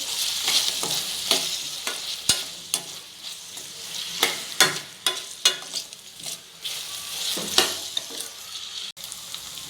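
Tomatoes with turmeric and mint cook in a pan for mutton curry, a soft continuous sizzle broken by repeated scraping stirs and spoon knocks at an uneven rhythm, close and moderately loud.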